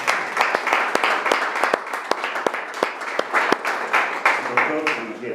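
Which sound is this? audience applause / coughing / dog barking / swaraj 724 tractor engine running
audience applause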